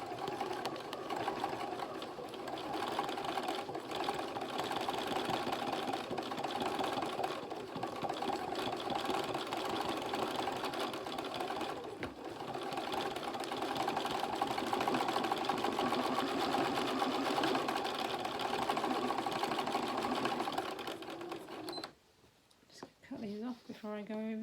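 A sewing machine stitches a blue tit fabric collage in a long, continuous run of rapid needle strokes close by, then stops near the end as a voice speaks.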